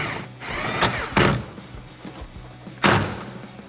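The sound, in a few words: tightening seat belt mount bolt with a 14mm wrench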